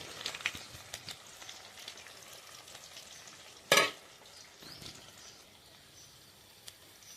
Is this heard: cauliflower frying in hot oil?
yes